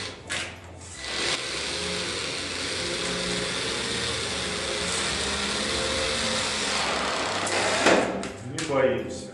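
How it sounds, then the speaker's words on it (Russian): A power screwdriver drives self-tapping screws into the leg frame of an acrylic bathtub, a sustained whirring drone of several seconds, flanked by short knocks and handling sounds. "Спокойно сейчас по краю утолщения прикручиваем"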